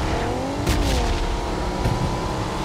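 Motorcycle engine in a video game, a steady loud drone with rising and falling harmonic whine as it revs, with two brief bursts of broadband noise near the middle and end.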